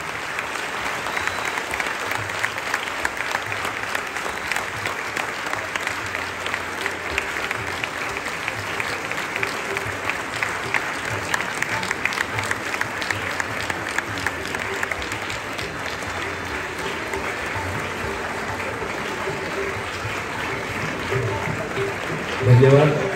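Sustained applause fills the hall at a civic ceremony honouring Olympic athletes, a thick continuous roar of many hands clapping at a steady level for over twenty seconds, with crowd murmur mixed in and a louder burst at the very end.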